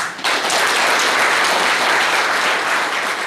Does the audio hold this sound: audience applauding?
yes